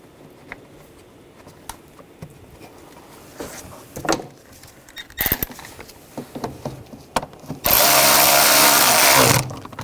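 A power tool runs in a steady loud burst for about two seconds, driving the screws on an air duct under the hood of a 2009-2017 Volkswagen Tiguan, after scattered clicks and handling noises of parts being fitted.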